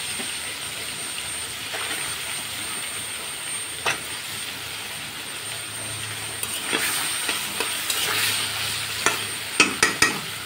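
Drumstick stalks are stirred into sizzling spice paste and oil in a pan, a steady frying hiss with occasional scraping stirs and utensil clicks growing busier toward the end; no one speaks.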